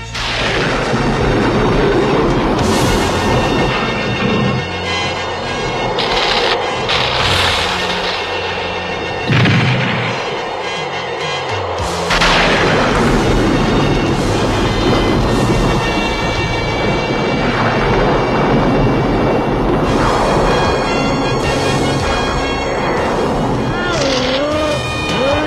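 Cartoon thunderstorm from an animated He-Man and the Masters of the Universe episode, with loud rolling thunder booms and rumbling that surge and continue throughout, layered with score and effects.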